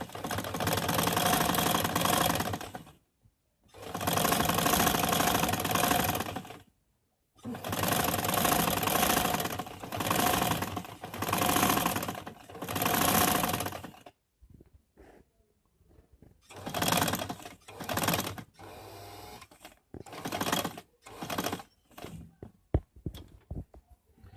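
A sewing machine runs in several loud bursts of a few seconds each while stitching a ladies suit collar, close up, followed by shorter stop-start runs and brief pauses between them.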